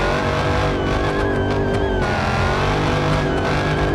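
A Hellcat-swapped SRT8 Charger engine in BeamNG Drive roars at high revs, loud and continuous, with shifting tonal whine and brief tire squeal, no voices.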